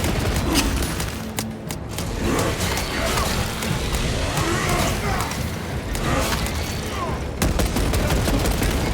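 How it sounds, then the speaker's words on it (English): Rapid bursts of gunfire and explosions from Warhammer 40k Space Marine 2 combat, dense and loud throughout, with a sharp blast near the middle; a voice is faintly present amid the din. "Throwing shock grenade!"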